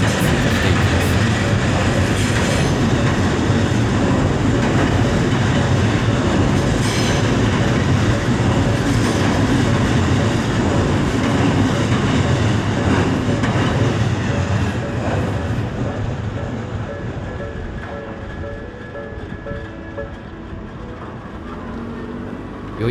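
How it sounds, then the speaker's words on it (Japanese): A Romancecar express train rumbles and clatters past a level crossing close by in Tokyo, loud and sustained, with rhythmic wheel clicks, gradually fading as it moves away. "駅から箱根湯本駅のロマンスカーに通過していきます。"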